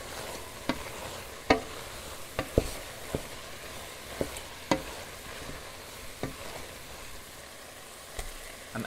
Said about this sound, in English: the shallots are added and cooked for 3 to 4 minutes before I add the garlic